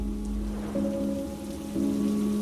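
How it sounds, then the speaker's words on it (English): Steady rain falls on a Friday night, a soft continuous hiss that runs the whole way through beneath sustained low droning tones. "It was a rainy Friday night."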